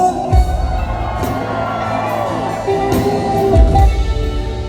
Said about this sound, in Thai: เดี๋ยวเราจะตะโกนเพลงนี้พร้อมๆกันนะครับ